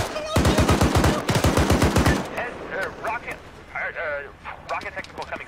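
Rapid machine gun bursts fire in a video game, loud and close, repeating for about two seconds before giving way to quieter crackles and voices over radio-like chatter.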